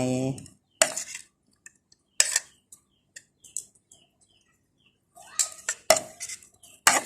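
Shallots tip into a cooking pot with sharp metallic clinks and scraping of utensils against the pot, several bright bursts separated by quiet gaps, close and clear, with a brief voice at the start.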